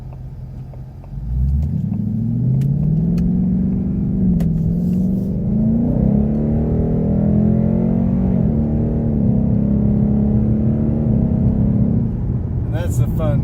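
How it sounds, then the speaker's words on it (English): A 2019 Ford Mustang GT PP1 in sport drive mode with sport exhaust, its V8 blipping through rising and falling downshifts as it slows, a loud steady rumble close up with a voice talking over it. "now that we're in sport drive mode with sport exhaust, you're gonna hear those downshifts as I come to a stop"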